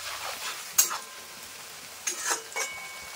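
Lightly fried onions in white oil sizzle softly at low level while a spatula scrapes and stirs the pan in a few distinct strokes, with a faint clink of utensil.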